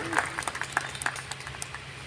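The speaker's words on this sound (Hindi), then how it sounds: "जबरदस्त तालियों की गूंज होनी चाहिए" Scattered applause greets Uttar Pradesh public works minister Jitin Prasad at the Bhinga, Shravasti inspection house, with a string of sharp, fairly sparse hand claps at moderate loudness and some faint background voices.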